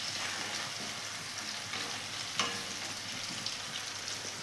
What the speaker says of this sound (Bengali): কড়াতে কিছুটা সর্ষের তেল দিয়েছি, দিয়ে এর ভেতরে পেঁয়াজটা দিয়ে ভেজে নেব।